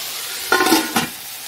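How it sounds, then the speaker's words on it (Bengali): Pieces of fish rubbed with salt and turmeric go into hot oil in a pan, bursting into two sharp sizzling surges that then settle into a faint steady fry, with no voices over them. "মাখিয়ে যে এবার ভাজা করতে বসে গেছি"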